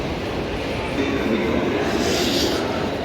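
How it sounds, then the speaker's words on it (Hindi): Steady, loud rumble and hiss of high-speed trains at a railway station platform in Rome, a continuous wash of rail noise with no clear talk over it. "ये देखो सारी हाई स्पीड ट्रेन के यहाँ पे प्लेटफॉर्म्स हैं"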